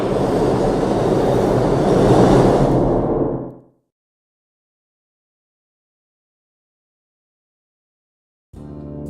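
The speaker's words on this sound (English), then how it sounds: "Looks like the K train." A subway train, the K train, rushes past in the video game Unavowed, a loud, steady rumbling roar for several seconds that cuts off abruptly into silence before sound briefly returns at the end.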